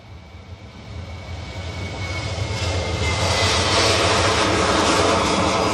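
A departing airliner at Bristol Airport, its jet engine roar building steadily and growing louder as it passes at moderate distance, a continuous broadband rumble and whine with no voices.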